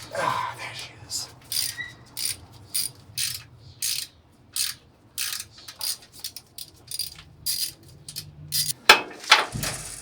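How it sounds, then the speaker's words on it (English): Ratchet wrench clicking in repeated short bursts while working near the exhaust of a C10 truck, close and crisp with pauses between strokes and soft handling noise underneath. "Might need to grab a little wrench because the exhaust is kind of blocking me."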